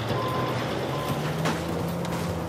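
Reversing beeps from a truck in a video game repeat as steady tones over a continuous engine rumble with background noise.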